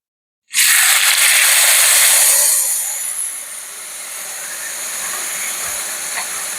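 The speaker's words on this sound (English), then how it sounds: "the grease is probably very hot. Which one was yours? That one. Alright, so what we'll do is we're gonna stick it in the pan." A steak is dropped into very hot grease in a pan and erupts into a loud, close sizzle that holds steady before easing into a softer, continuous hiss.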